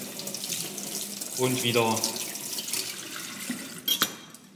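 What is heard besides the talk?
knife rinsed under running tap water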